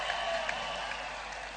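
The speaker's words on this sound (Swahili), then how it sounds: "Makofi kwangu." An audience at a political event in Trans Nzoia County, Kenya, applauds in a steady, dense wash of clapping that stays even and moderately loud for the whole short stretch.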